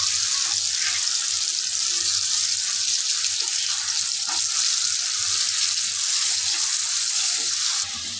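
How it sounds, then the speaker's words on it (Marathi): Ground masala for egg curry sizzles steadily in a pan with fried eggs, a loud continuous close hiss that holds evenly throughout before easing slightly at the very end. "आता हा सगळा मसाला आपण एकत्र घालून चांगला परतवून घ्यायचा आहे"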